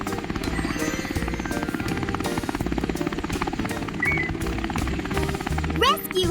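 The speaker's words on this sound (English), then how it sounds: "is a rescue helicopter" A rescue helicopter's rotor thumps in a steady fast rhythm with engine whine, continuous and fairly close, ending in a brief higher-pitched swoosh.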